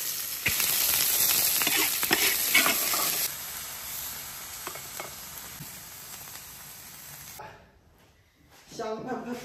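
Food dropped into a hot wok sputters and fries loudly for several seconds with stirring clatter, then the sizzle fades and briefly drops away before picking up again; a voice can be heard.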